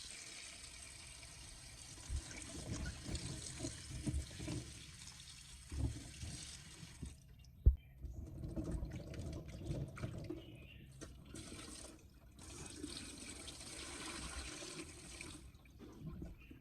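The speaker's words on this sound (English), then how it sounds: "I drain the water and rinse all the lemons again under clean water to completely remove any remaining baking soda on the peel." Lemons are rinsed under steady running tap water to wash off leftover baking soda, a continuous close splashing wash that shifts in tone partway through, with no voices.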